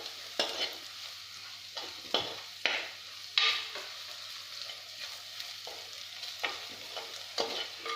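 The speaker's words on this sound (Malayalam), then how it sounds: "ചെറിയ തീയിൽ നല്ലപോലെ ഇളക്കി തന്നെ മൂപ്പിക്കണം" Spices roast over a low flame in a pan for a spicy tuna fish curry, with a steady soft sizzle and repeated scraping stirs coming every second or so, close up and with no talking.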